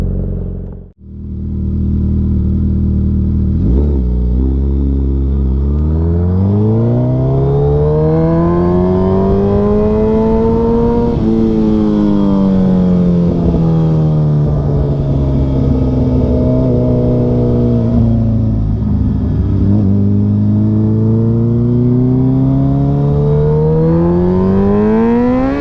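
A 2022 Suzuki Hayabusa with a Brocks exhaust roars along the road, its engine rising and falling through repeated revving and gear changes, loud and close for the full ride.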